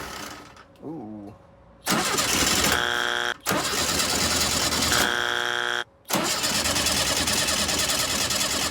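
A 1967 VW Type 3 Squareback engine is cranked by the starter several times, each churning burst cut by short pauses. It finally catches and runs loudly and steadily, close by.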